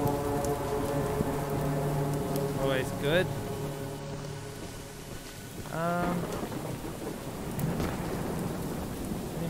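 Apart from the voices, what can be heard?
rain and thunder in video game Choo-Choo Charles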